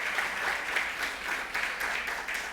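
A church congregation breaks into loud, sustained applause during a sermon, a dense and steady clatter of clapping hands that fills the room from start to finish.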